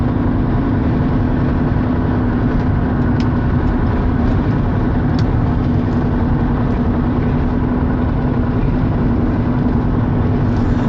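A pickup truck cruising on a highway gives a steady, continuous engine and road drone with a faint low hum, unbroken and close throughout, with no one talking.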